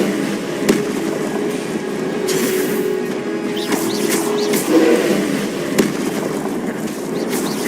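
Confringo blasting spells explode in Hogwarts Legacy, a series of sharp cracks and pops scattered over a busy rumbling battle bed with a brief tonal hum, close and fairly loud.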